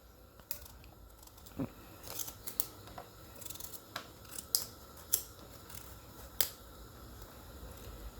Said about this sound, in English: The difficulty is just peeling the pumpkin